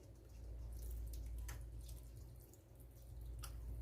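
Water pours from a tap into a pot holding rice, lamb and sauce for Spanish rice, a steady close splashing stream that runs for about four seconds with a slight dip near the end.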